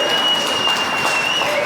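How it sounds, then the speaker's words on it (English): Wedding guests applaud the bride's parents after their speech, a brief, loud, dense burst of clapping that fills the reception hall. "If we can give them another round of applause"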